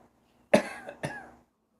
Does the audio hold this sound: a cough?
yes